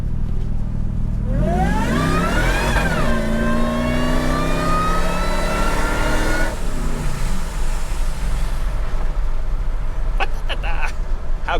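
A Ford SVT Lightning pickup's engine revs hard as the throttle opens, pitch climbing steeply then holding a loud, steady roar before easing off, heard from inside the cab.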